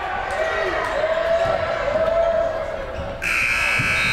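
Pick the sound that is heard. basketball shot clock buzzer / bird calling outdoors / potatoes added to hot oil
basketball shot clock buzzer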